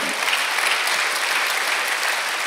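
A congregation at a Korean Sunday worship service claps loudly and continuously, a dense, even wash of applause filling the whole space with no pauses.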